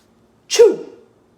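A read-aloud narrator voices a single loud, close sneeze for a children's picture book about pigs, a sharp burst that trails off in under a second with nothing else around it.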